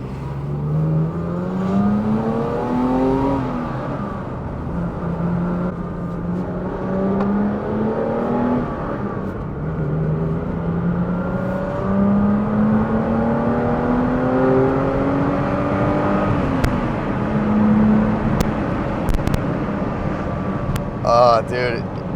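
A 1984 Alpina B6 2.8 BMW E30 with its M30 inline-six pulls through the gears from inside the cabin, engine note climbing and dropping in repeated revving sweeps under occasional talk.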